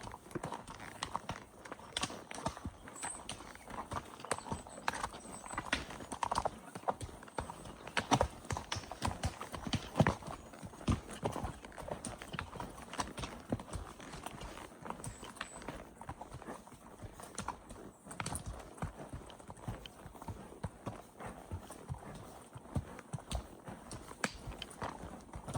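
Horse hooves clip-clop steadily on a steep rocky trail during a ride on horseback, with a continuous uneven rhythm of close, crisp impacts and no talking.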